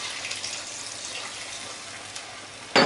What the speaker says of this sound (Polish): Podlewamy wodą,